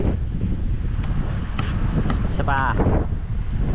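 Strong wind buffets the microphone in a steady low roar, with a few brief spoken words in Filipino over it.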